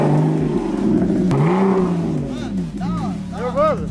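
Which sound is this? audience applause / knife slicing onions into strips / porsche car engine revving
porsche car engine revving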